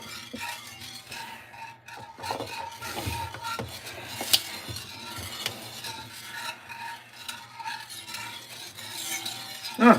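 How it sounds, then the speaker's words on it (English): A whisk scraping and stirring through a pot of stew to break up clumps, a steady quiet rasp with occasional clinks against the pot, heard alone. "See if you can whisk all the clumps out of there."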